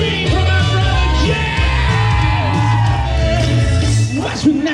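A crowd at a Universal Studios Orlando show shouts and cheers loudly and continuously over pulsing music, with whoops and yells rising throughout.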